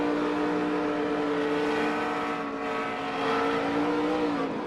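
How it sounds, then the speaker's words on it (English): A NASCAR stock car at the 2010 Coca-Cola 600 roars steadily at high RPM, the engine note climbing slightly over a few seconds amid continuous track noise; no distinct impact stands out. "you can hear the RPM go up there, then you can hear him hit the wall"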